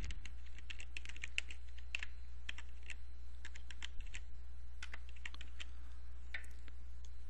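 A search is typed on a computer keyboard, a steady run of light, quick key clicks over a low constant hum.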